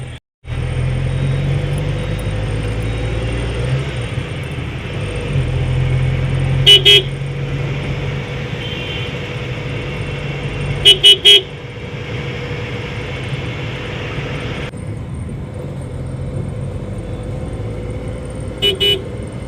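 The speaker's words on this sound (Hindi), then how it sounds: "इतना ट्रैफिक इतना ट्रैफिक।" Dense road traffic in Lucknow, heard from inside a vehicle, with a steady engine and road rumble and several short car horn toots, some in quick pairs, sounding at moderate distance.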